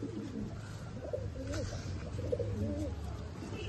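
Pigeons in a keeper's collection coo in low, repeated warbling phrases, fairly close and steady against a constant background hum.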